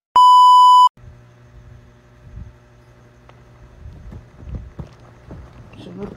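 A cellphone gives one loud, steady electronic beep lasting under a second, followed by quiet room noise with faint movement and low hum.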